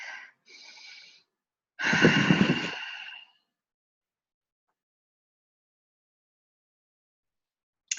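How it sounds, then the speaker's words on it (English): A deep breath taken alone in a quiet room: two short breaths in, then a long, loud, airy exhale lasting over a second, followed by silence. "Take a deep breath."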